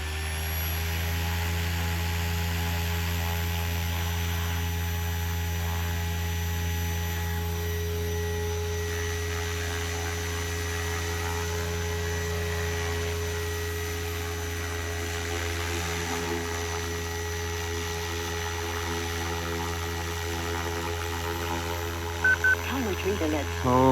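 A SAB Goblin Raw 700 RC helicopter with its electric motor running on a maiden flight gives a steady, loud droning hum with strong tonal whine, continuous and unbroken throughout.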